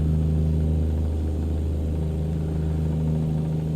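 A Peterbilt 389 autohauler truck with a 430 horsepower engine cruising near highway speed in American Truck Simulator, a steady low diesel drone and rumble held at constant revs, close and alone.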